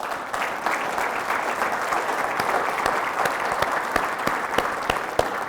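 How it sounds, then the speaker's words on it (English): A keynote audience at a soccer summit gives a round of applause, a steady wash of many hands clapping with a few sharper individual claps standing out, sustained throughout. "Round of applause for Ontario Soccer."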